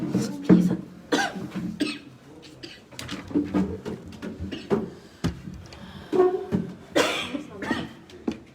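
Several short, sharp coughs come in bursts, mixed with faint background voices and rustling nearby.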